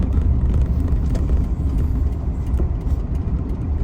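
Suzuki DA64W minivan driving through a local neighborhood, steady loud engine and road rumble continuing throughout without pause.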